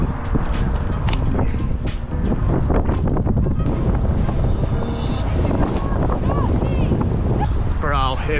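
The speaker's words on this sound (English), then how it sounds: "It is so windy out here, it's insane." Strong wind batters the microphone outdoors at a skate spot, a loud, steady roar with gusty buffeting all the way through, and faint voices and scattered clicks and knocks beneath it.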